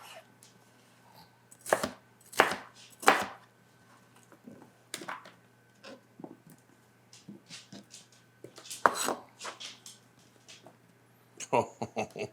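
A knife chops chicken on a cutting board while a Greek chicken sheet pan dinner is prepared: a few sharp, separate chops spaced out over a quiet kitchen background, with occasional voices.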